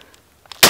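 A single loud, sharp rifle shot from an Ishapore 2A cracks out near the end after a quiet stretch with faint clicks, close and abrupt.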